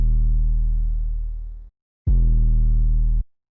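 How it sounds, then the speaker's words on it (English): Two sustained 808 bass notes with light, grainy distortion, the first long and fading, the second shorter with a sharp attack, each cutting off cleanly into silence. "on the 808 I did throw a little fast distortion on the B preset"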